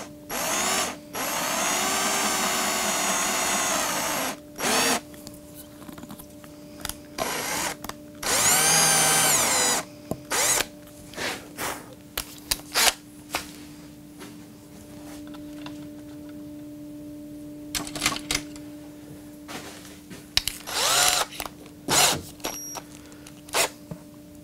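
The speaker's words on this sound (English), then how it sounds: "So I'm going to start with a 4 mil, and I'm going down the pilot hole." A power drill with a 4 mm bit whines in bursts of varying length while drilling a pilot hole in electric guitar wood, starting and stopping repeatedly, close up, with short mechanical clicks between runs.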